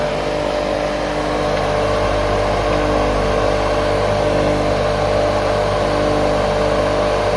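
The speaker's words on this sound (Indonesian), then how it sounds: "lihat air akan masuk ke dalam mesin jet cleanernya" An Orion 100SX jet cleaner pressure washer runs steadily, its motor giving a loud, constant hum with a whining tone and no pauses.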